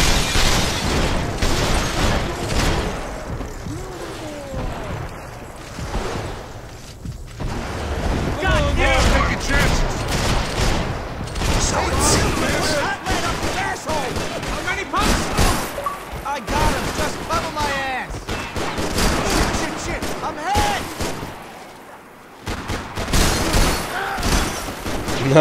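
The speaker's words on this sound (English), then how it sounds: "That was nice shooting there." Gunfire rattles through a rooftop shootout in the video game Max Payne 3, with dense, continuous bursts and booms beneath a game score and effects. Someone talks over parts of it.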